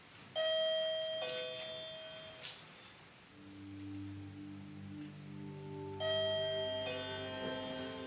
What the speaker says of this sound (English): I was able to obtain a wireless doorbell that I brought into the courtroom